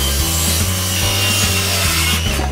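Hand saw cutting through a wooden board on a stable work surface, rapid rhythmic back-and-forth strokes, loud and close, with no talking.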